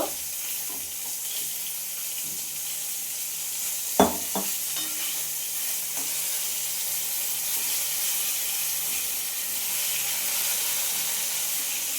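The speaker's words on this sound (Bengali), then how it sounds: "বেগুনটা আমার প্রায় ভাজা হয়ে এসছে।" A steady, hissing sizzle of eggplant frying in a pan runs throughout, broken once by a sharp clatter of a utensil around the middle.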